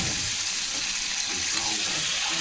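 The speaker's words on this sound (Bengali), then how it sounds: "এখন আমি ম্যারিনেট করে রাখা চিকেনটাকে এর মধ্যে দিয়ে দেব" Marinated chicken going into a pan of deeply browned fried onions, giving a steady, loud broadband sizzle that hisses continuously without pause.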